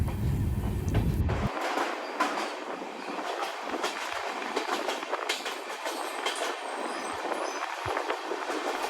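An Amrit Bharat Express train runs past a station in West Bengal, with a steady rumble and rhythmic clickety-clack of wheels on rails continuing throughout, heard from on board.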